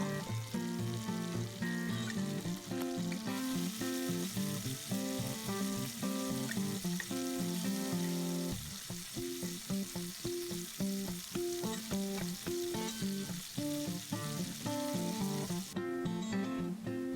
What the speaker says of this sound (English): Into the medium pan, I put some butter and sage leaves, and then I've added the cooked gnocchi.